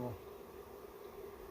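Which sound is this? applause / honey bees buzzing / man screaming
honey bees buzzing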